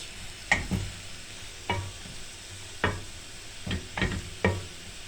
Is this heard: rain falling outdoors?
no